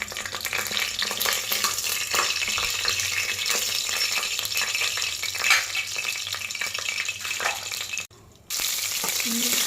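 Spices roasting in a teaspoon of oil in a pan, giving a continuous dense sizzle with scraping stirs throughout, a short drop to near silence just past the eighth second, then the sizzle resumes.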